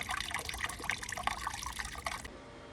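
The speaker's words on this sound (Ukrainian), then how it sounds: "Зурчання води." Water murmurs and trickles steadily in a small solar-powered fountain, running close and continuous at a moderate level for most of the stretch, then dropping off abruptly near the end.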